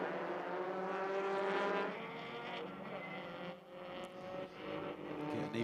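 Honda touring race cars in TCR/TCA class battle on the track at Sonoma, their engines making a loud high whine that swells and then eases as they pass. A commentator talks over it.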